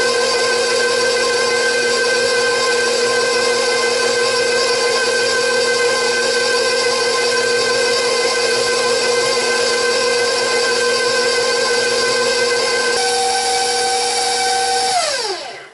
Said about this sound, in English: I'm going to switch to the paddle attachment and we'll start working on adding our butter.